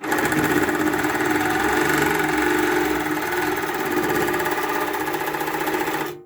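A longarm quilting machine stitches steadily along a ruler template, a continuous fast mechanical whirring hum with rapid needle rhythm, close and even, stopping abruptly at the end.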